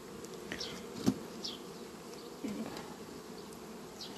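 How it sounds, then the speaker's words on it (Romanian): Honey bees buzzing inside a hive nucleus covered with foil, a faint steady drone with a few brief louder buzzes passing close, no voices. "Avem folia pusă și să vedem ce fac albinuțile acum"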